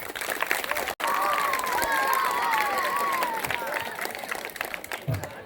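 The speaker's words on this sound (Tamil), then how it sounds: "இந்த சின்ன முருகனின் நடனத்தை பாராட்டி கைத்தட்டி உற்சாகப்படுத்துமாறு கேட்டுக்கொள்கிறேன்" Audience clapping for a small boy's dance at a government high school annual day function in Valayamadevi, a dense continuous applause filling the hall with some cheering and a voice over the top.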